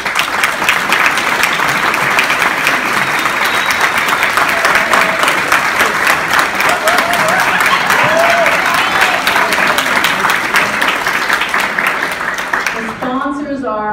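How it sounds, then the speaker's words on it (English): A crowd at an equality breakfast gives sustained, loud applause for sponsors, a continuous dense clapping that trails off as a voice begins at the end. "If you're a sponsor, you can stand up and get a round of applause."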